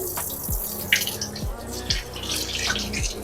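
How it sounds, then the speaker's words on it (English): Hands being washed under a running kitchen tap make a steady close splashing flow with small rhythmic gurgles and drips throughout. "Let me wash my hands again."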